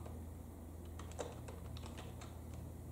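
Keys tapped on a computer keyboard while entering a command, a quiet run of several quick clicks over a steady low hum, no voices.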